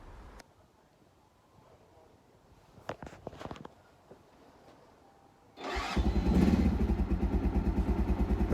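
Keeway 125cc motorcycle engine with Suzuki parts, newly fitted battery and the choke pulled fully out: quiet starter clicks, then the engine fires and settles into a loud, steady, close idle.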